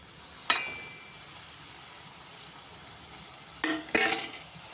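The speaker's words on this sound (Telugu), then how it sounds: "ఇప్పుడు ఆయిల్ మొత్తం అన్నిటికీ పట్టేటట్టు మనం మెల్లగా చిన్నగా కలుపుకుందాం మీడియం ఫ్లేమ్లో పెట్టుకొని" Broad beans frying in about half a spoon of oil over a medium flame, stirred slowly in a pan; a quiet steady sizzle runs throughout, with a spoon scrape near the start and two louder scraping stirs near the end.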